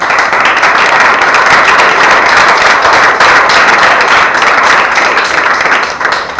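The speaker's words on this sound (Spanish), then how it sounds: "¿Qué tal si le regalamos un aplauso al Señor?" Church congregation applauding during a Spanish-language sermon, a dense, steady wash of many hands clapping that fills the whole stretch at full loudness and tapers slightly at the end.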